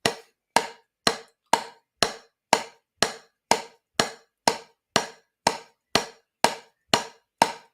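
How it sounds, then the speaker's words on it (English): Sticks strike a practice drum pad in a steady run of about fifteen evenly spaced, sharp dry taps, each decaying quickly to silence, close and alone with no voices. "So now I'm going to do eighth notes,"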